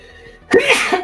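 A single sharp sneeze, close and loud, bursting out after a short quiet moment.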